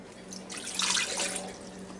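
A cup of water poured into the inner pot of a Ninja Foodi pressure cooker, a steady close splashing stream that rises for about a second and then settles into a softer trickle over a faint steady hum.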